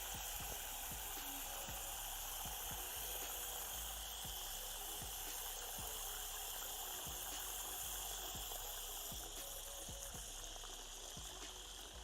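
Fresh water splashing steadily into a clean bowl for an eastern diamondback rattlesnake, a continuous close gushing pour with no voices over it.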